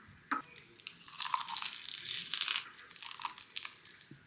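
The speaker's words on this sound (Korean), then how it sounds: "진짜 미역이 까득까득 씹히는 게 너무 좋아." Crisp, wet crunching of fresh sea mustard seaweed being chewed close to the mouth, a run of quick snappy bites rising and falling over several seconds, fairly quiet with no talking.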